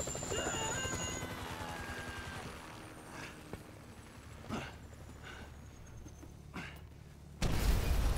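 A helicopter in GTA 5 whirs with a steady rotor chop that thins out over several seconds, broken by a few sharp in-game thuds, before a sudden loud burst of game noise at the end.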